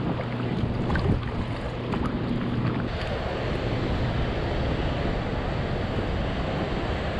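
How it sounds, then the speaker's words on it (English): Strong, steady wind roars across a kayak on a lake at Center Hill Dam, with constant gusty buffeting of the microphone and faint water lapping, and no voices. "this wind is screaming so hard I can't hardly fish at all"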